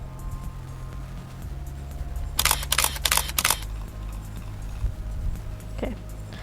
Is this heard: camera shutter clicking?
yes